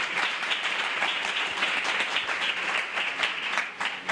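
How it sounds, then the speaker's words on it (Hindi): Congregation applauding in a church for a visiting pastor and his family, a steady dense patter of many hands clapping at moderate level, continuous for the full stretch with no voices over it. "पास्टर साहब के लिए, इनके घराने के लिए जोरदार तालियां बजाएंगे खुदावन के हुजूरी में।"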